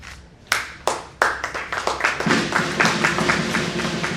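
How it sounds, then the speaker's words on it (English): An audience at an investiture and induction ceremony breaks into applause, starting with a few sharp separate claps that quickly build into steady, sustained clapping from the crowd. "Please clap for her now."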